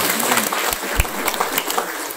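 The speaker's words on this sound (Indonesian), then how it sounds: "Tepuk tangan yang meriah." Lively applause from a church congregation during a weekly morning devotional gathering, a dense wash of many hands clapping at steady loudness for a couple of seconds, with no voices over it.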